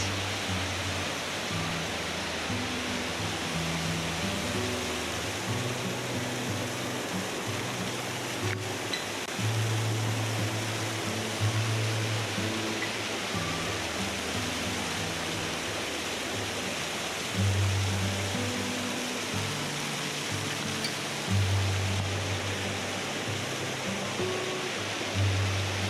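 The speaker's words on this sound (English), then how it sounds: "Up here at Kings Canyon Waterfall, been here a few times" Kings Canyon Waterfall in winter in Washoe Valley, Nevada, a steady broadband rush of fast-flowing water, continuous and fairly even, with low gusty wind rumble.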